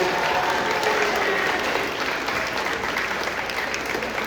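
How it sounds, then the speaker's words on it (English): An audience at a school sports awards ceremony applauds the track team with dense, steady clapping that holds at an even, loud level throughout, the crowd murmuring faintly beneath it. "give the track team another round of applause"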